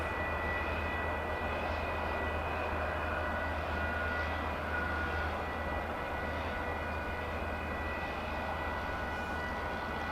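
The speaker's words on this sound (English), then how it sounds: "Got something a little smaller than that, a Martin Air plane." Martinair jet airliner passing at DFW Airport, a steady broadband engine roar holding at a constant level through the whole stretch, with no voices over it.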